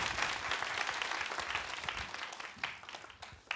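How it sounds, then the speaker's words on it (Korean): A lecture-hall audience at a Korean economics concert applauds an arriving speaker, dense clapping that holds strong, then thins and fades toward the end with a few scattered final claps. "뜨거운 박수로 맞아주십시오"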